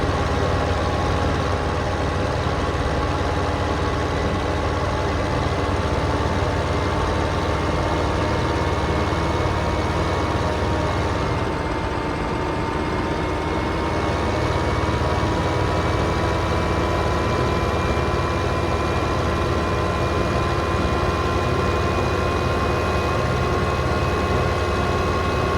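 The engine of a JCB tractor in Farming Simulator 2015 gives a loud, continuous low-pitched drone with a steady whine. It holds almost unchanged for the full twenty-five seconds, with only a brief dip near the middle.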